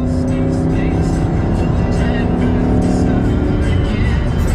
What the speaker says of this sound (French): C'est un moteur qui monte à 8500 tours minute.